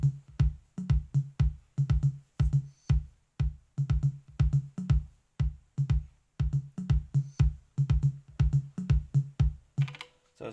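A dry programmed percussion groove of short, punchy hits in a swung repeating pattern, with crisp hi-hat ticks on top and no voices.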